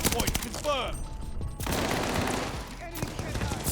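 Cooper Carbine fire in the Call of Duty Vanguard multiplayer game, a loud, dense run of rapid shots that keeps going through the clip alongside other in-game noise.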